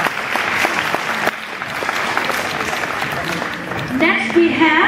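Applause from a crowd at the Wee Miss Harvest 2012 pageant as a contestant is honored, steady clapping throughout, swelling with a few cheers near the end, with an announcer's voice over it.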